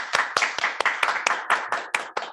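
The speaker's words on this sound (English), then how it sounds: "Clap" A single person clapping about ten times in a steady, slightly uneven rhythm, close and crisp, at the end of a conference talk on verifying deep neural networks, with no other sound.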